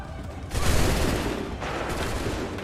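A loud musket volley erupts in Assassin's Creed 3, a sudden massed crack of many shots followed by sustained rattling gunfire, with a second burst partway through.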